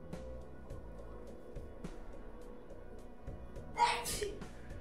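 A single sharp sneeze bursts out near the end, loud and close, over quiet background music and game sounds.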